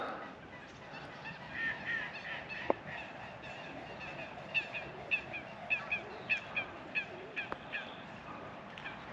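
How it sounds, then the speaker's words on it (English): A flock of geese honks repeatedly in a steady run of calls, moderately close, as they take off from water, over a breezy outdoor background. "Beautiful birds."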